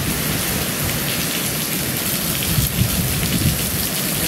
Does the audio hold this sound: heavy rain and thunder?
yes